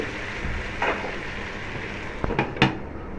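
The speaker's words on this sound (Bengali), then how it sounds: "মাংসটা দিয়ে দেওয়ার সাথে সাথে আপনাকে ঢাকনা দিয়ে দিতে হবে" A metal lid clanks onto a pot of beef kala bhuna over a low stovetop sizzle, giving a few short, close clinks near the end.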